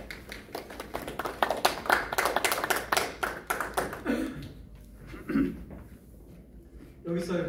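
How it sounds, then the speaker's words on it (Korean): Audience at a literary seminar applauding to welcome a poet: a burst of crisp, close claps for about four seconds that thins out and stops, followed by a quiet room with a few scattered sounds. "이철경 시인, 큰 박수로 환영해 주십시오."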